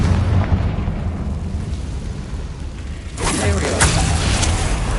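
A Confringo fire spell goes off in Hogwarts Legacy as a loud, dense blast that rumbles steadily before a sharper burst of crackling impact swells near the end.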